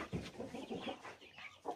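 Brahma chickens in a coop give a few faint, soft clucks in quick succession, quiet and close with no talk.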